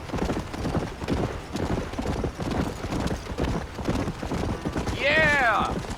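Horse hooves in the Red Dead Redemption video game beat a quick, rhythmic clip-clop over a dirt trail, and a short whinny rises near the end.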